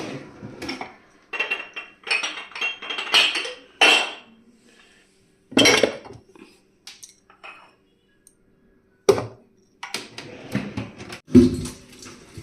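Steel utensils, pots and pans being washed in a home kitchen: intermittent clattering clinks and scrapes come in bursts with quiet gaps between them, close by and with no one talking.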